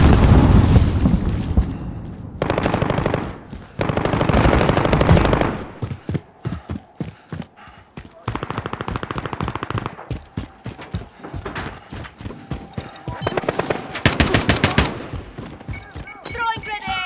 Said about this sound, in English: Friendly sentry gun online.